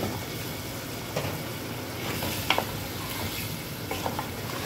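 Diced potatoes tumble into a hot pan for aloo gobhi, giving a continuous close sizzle broken by several sharp scrapes and clatters from a stirring spoon, with no voices.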